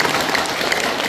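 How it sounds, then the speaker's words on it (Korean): An audience claps at a Korean commemorative gathering, a dense, steady burst of applause from a crowd, fairly close and sustained. "박수 좀 해주시기 바랍니다."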